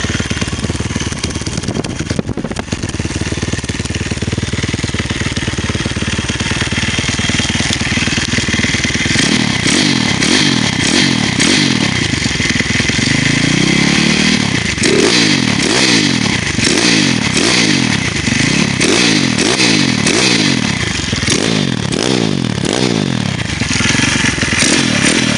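A 150cc dirt bike engine runs loud and steady, then revs repeatedly in rising and falling surges through the second half, with no talking over it.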